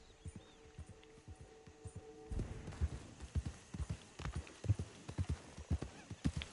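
A large horse in Red Dead Redemption 2 clip-clops along, quiet at first and then a steady, uneven run of hoof strikes that grows louder and continues to the end.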